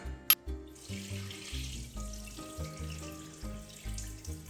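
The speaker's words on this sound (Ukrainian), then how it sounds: "Доливаю ще воду" Water runs steadily from a tap, splashing and gurgling as it fills a bowl of poppy seeds being prepared as a pie filling, with no voices.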